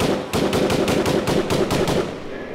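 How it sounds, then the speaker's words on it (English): Rapid burst of about eleven evenly spaced gunshot sound effects dropped into a grime DJ set on radio, loud and punchy over a steady beat, then fading out. "Gunshots."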